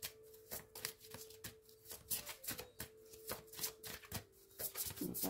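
A deck of cards is shuffled in quick, repeated riffling bursts, close and soft, with short pauses between passes.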